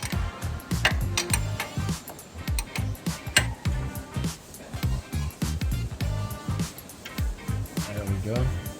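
Socket wrench ratcheting on a nut deep in a tight Hilux Surf diesel engine bay, a steady run of quick metallic clicks and ticks close by, under someone talking.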